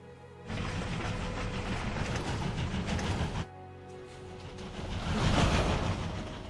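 A train in the video game World of Final Fantasy Maxima rumbles and clatters in a steady mechanical drone, cutting off abruptly, then returning and swelling louder toward the end.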